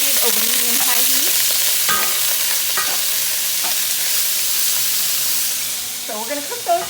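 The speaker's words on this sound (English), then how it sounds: "So I am going to toss in some shrimp. And drop that down in there. It's going to sizzle" Loud, steady sizzling of shrimp frying in a pan over medium-high heat, with occasional clinks and stirring sounds.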